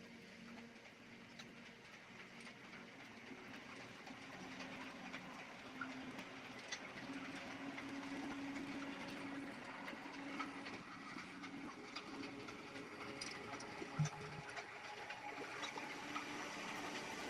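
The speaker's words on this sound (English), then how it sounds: "The vibrations of the train underneath you now begin to slow down." A train rolls steadily along the tracks, a low, continuous rumble with faint rattles and clicks, fairly quiet and even throughout.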